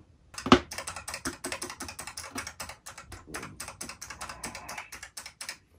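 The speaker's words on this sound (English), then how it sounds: "this is the Huntsman Razer Quartz Optomechanical Gaming Keyboard." Rapid keystrokes on a pink Razer Huntsman Quartz edition optomechanical gaming keyboard, starting with one sharp loud key hit and then settling into a steady, fast, close-up clatter of crisp clicks with no voices.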